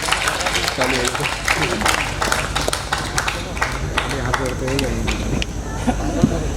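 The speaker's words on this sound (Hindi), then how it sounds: "उनके लिए जोरदार तालियां" Audience applause at the closing of a workshop show, with a mix of claps and cheers, while a voice talks over the clapping throughout.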